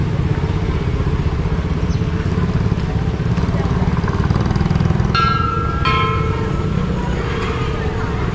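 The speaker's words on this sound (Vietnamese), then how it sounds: "mình thuê xe máy, mình đi rất là gọn và tiện nữa" Rented motorbike riding on a road near Chiang Rai, Thailand: a steady low engine drone and road rumble run throughout, with brief high whining tones partway through, close and continuous.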